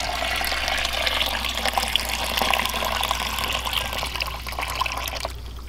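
Water gushes and runs steadily from a tap, filling a sprayer tank before spraying a vegetable garden; a continuous, fairly loud rushing flow with faint dripping, alone without talk.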